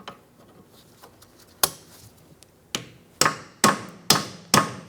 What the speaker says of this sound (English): then we'll tap on those pliers with a hammer